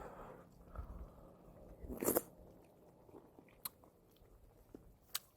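Soft bites and chewing of tofu and thin-sliced beef brisket during a Korean mukbang, a faint crunchy bite near two seconds followed by quiet, sparse mouth sounds up close.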